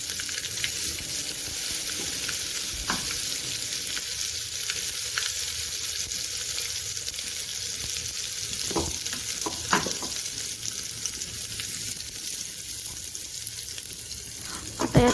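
Ground paste of coriander, curry leaves, cumin and coriander seed frying in a pan for dhokla, giving a steady close sizzle with occasional stirring scrapes and pops.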